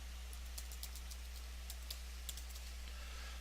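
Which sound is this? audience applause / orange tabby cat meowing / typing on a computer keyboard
typing on a computer keyboard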